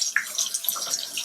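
Water running from a tap with splashing and gurgling as makeup brushes are rinsed under the stream, close and continuous.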